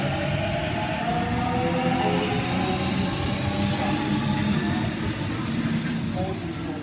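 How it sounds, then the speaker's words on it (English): A passenger train at a platform hums and rumbles steadily at close range, with tonal whine from the motors and a voice speaking over it. "Here is the train."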